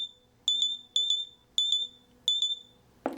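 An EMF detector meter used for ghost hunting gives four short bursts of high electronic beeps at about half-second spacing, each a quick double chirp, ending in a brief rustle.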